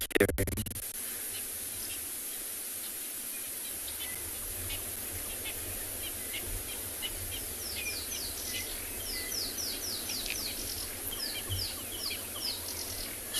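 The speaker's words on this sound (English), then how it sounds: "So you might hear this rattling sound behind us, and that's from a bird called the rattling cisticola." Rattling cisticola calls at sunset on safari: repeated short dry rattling trills, fairly clear over a steady background of insect and bird noise, with a low hum throughout.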